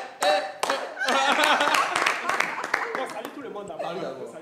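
On a TV studio set, an audience claps as a guest arrives, scattered sharp claps and thumps under loud, animated talking and laughter from the hosts.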